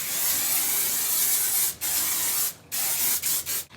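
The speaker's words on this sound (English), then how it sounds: "This is the Beautifully Bold Hairspray." Herbal Essences Beautifully Bold hairspray is sprayed onto hair in several close, loud hissing bursts, one long spray followed by shorter puffs with brief gaps between them.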